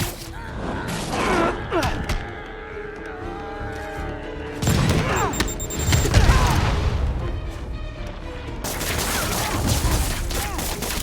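A grenade detonates during a Marvel's Spider-Man video game fight, a sharp crash and boom among scattered impacts and mechanical clatter, loud and close, with game sounds continuing around it.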